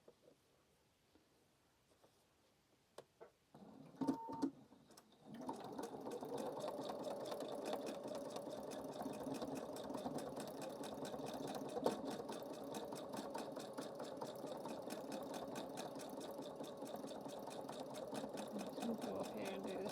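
A sewing machine stitches a fabric collage, starting after a few quiet seconds of handling clicks, then running in a steady, close, rapid mechanical chatter to the end.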